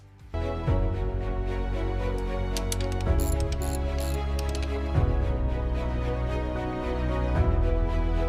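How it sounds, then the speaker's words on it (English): Ratchet clicking as it torques the engine head bolts on a restored 100 ft Anaconda Elite limousine, a steady run of dense mechanical ticks under a continuous low hum, close and fairly loud throughout. "let's torque the head bolts to spec."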